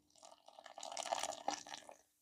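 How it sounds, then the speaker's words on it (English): Boiling hot water trickles and splashes in small bursts as it is poured into roti dough, quiet and close with no talk. "Now we are going to use boiling hot water to form a soft dough."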